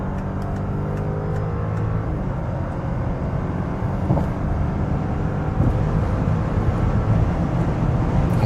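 A Volkswagen Touareg R plug-in hybrid accelerates hard in sport mode from about 100 km/h, a loud sustained roar of engine and road noise from inside the cabin that builds slightly toward the end, with no voices.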